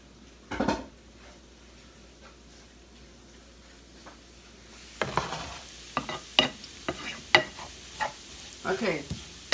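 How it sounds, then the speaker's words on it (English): Bacon grease is drained from a frying pan while string beans cook, with a soft sizzle under a quiet start, then a run of clanking pan and utensil knocks and scrapes close by. "I drained some of the grease off"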